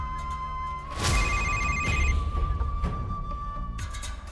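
A telephone rings loudly and close, a sustained electronic trill that runs unbroken for several seconds over a faint low rumble of room noise.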